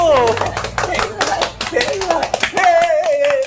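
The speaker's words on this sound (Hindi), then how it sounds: "चलो ना, बजाओ ना तालियां, कम वक्त बजाओ।" Hand claps in a Pakistani TV drama scene, a few sharp irregular claps mixed with spoken and sung voices close by, the voices carrying over the clapping.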